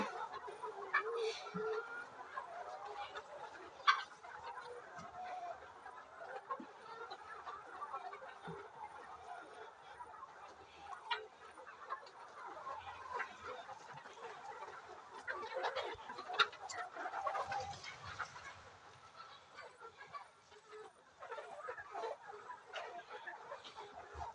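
Chickens cluck and murmur steadily at close range, with a few sharper calls standing out over a continuous busy flock chatter.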